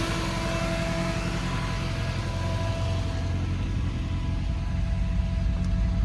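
A 1971 MG Midget engine idles steadily with its electric cooling fan running, a loud, constant close-up drone with no talking.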